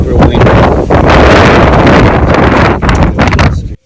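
Strong gusts batter the microphone outdoors in the desert, a loud continuous roaring rumble that briefly drops before cutting out.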